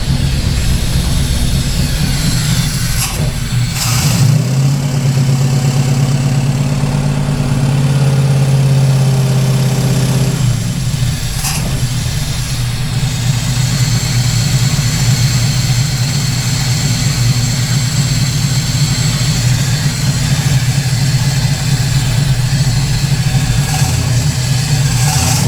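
A Holden Torana engine idles at about 1000 RPM, a loud, steady low rumble held close and continuous, with a brief dip in tone partway through and no voices.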